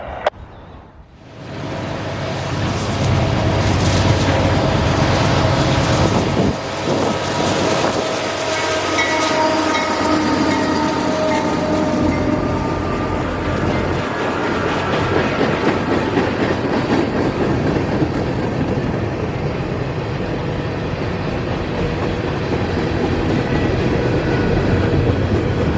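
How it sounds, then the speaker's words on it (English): A long freight train led by an AC4400 locomotive with an SD70MAC and a Tier 4 GEVO behind it rumbles past in northwest Georgia. The locomotives are loud and close, and a steady roar of cars continues alone afterward. "YN2 AC 4400 leading an SD70 Mac and a Tier 4 Gevo, with a not too terribly long consist in tow"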